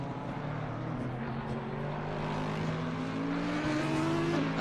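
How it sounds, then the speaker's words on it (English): Two GT3 race cars run side by side at Laguna Seca in a sim racing game, their engines droning and climbing together in pitch as they accelerate. It is a steady, continuous mechanical hum. "Two cars going side by side"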